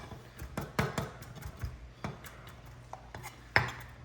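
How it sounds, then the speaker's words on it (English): A knife hacks through pico de gallo ingredients on a cutting board, giving irregular sharp thuds and taps, some closer and louder, with quiet gaps between strikes and no talking. "I just grab my knife, point down, and just start kind of hacking away at it."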